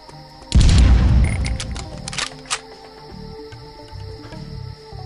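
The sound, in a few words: explosion in a video game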